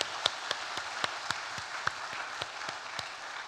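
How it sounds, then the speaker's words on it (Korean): A church congregation applauds the children after a worship service, a steady wash of many hands clapping at a moderate distance, with faint sharper claps rising above it and no talk. "우리 힘찬 응원과 격려의 박수를 한번 보냈으면"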